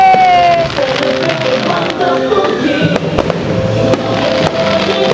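Repeated sharp fireworks bangs crackle over a dense, steady wash of noise at an amusement park, with a crowd murmuring and cheering in the background.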